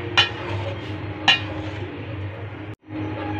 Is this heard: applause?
no